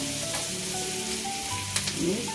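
Onions frying in a pan for a Malvani-style bitter gourd (karela) curry, a steady close sizzle with a few scraping stirs of a spoon near the end.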